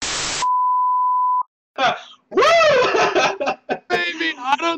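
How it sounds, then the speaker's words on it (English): A comical censor beep: one steady, pure electronic tone lasting about a second, right after a short burst of noise, followed by lively talking and what sounds like laughter. "I'm actually gonna put a comical beep in like in the middle."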